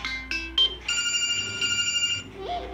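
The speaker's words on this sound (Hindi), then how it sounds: "आप कोई सी भी रिंगटोन सेलेक्ट कर लीजिए यहाँ से।" Ringtone previews play in quick succession on a Redmi 7A phone, a few short bursts of melody cut off and then a longer sustained tune, clear and close with no talk.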